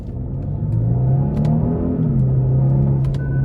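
A 2024 Genesis G80 Sport Prestige AWD with its 3.5 twin-turbo V6 pulls hard from first gear, the engine note climbing steadily with a rising whir, heard loud from inside the cabin with no talking.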